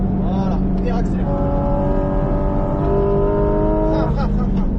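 A Porsche GT4 RS accelerates hard on a race circuit, its engine note rising steadily through the gear and sweeping in pitch, loud and close throughout, with a voice talking over it from inside the car.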